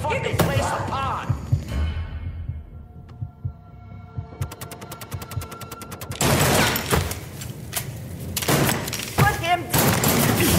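Heavy gunfire from a Mafia 3 shootout, with bursts of automatic fire and sharp shots crowding the second half, loud and close, amid game music and shouted voices.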